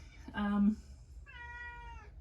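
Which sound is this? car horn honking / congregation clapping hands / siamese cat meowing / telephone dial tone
siamese cat meowing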